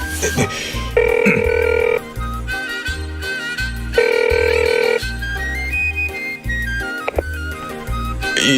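A telephone rings in repeated bursts of bright, regular tones, loud and near, over a busy backing of other sounds, with some faint voice in places.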